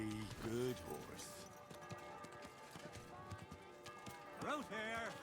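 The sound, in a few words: horse hooves clip-clopping, video game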